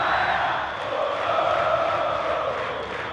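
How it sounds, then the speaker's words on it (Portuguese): Botafogo supporters roar and cheer inside Maracanã stadium during a football match, a dense sustained crowd noise that stays loud and fairly even throughout. "É sempre um momento que a torcida do Botafogo vai ao delírio no Maracanã."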